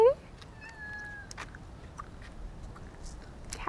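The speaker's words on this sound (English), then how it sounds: "Cats are everywhere." A cat meows on a quiet Santorini beach in November, a single close, clear meow right at the start followed by faint tonal cries amid soft ambient noise.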